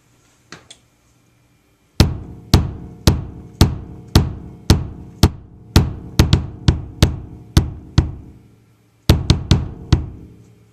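A bass drum stuffed with one blanket and two pillows gives short, dull, deadened thumps, struck about fifteen times at a steady pace with a brief pause before a final quick cluster, close and alone.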